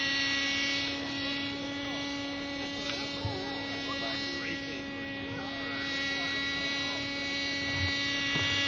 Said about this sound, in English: hitting the balloon with a helicopter would be easy